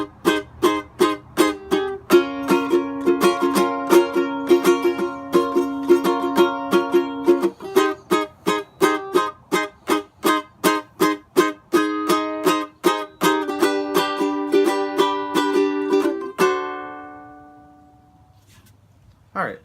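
Chords from the interlude of a song played on guitar, crisp rhythmic strums sounding close and clear, then a final chord rings out and fades to near silence.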